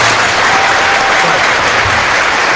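Canned applause sound effect played on a Spanish car radio show, a dense, steady wash of clapping and crowd filling the whole stretch at full loudness.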